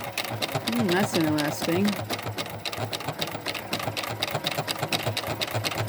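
A Juki HZL-F400 sewing machine runs a decorative stitch with a fast, even mechanical clatter throughout, while a person speaks briefly over it near the start.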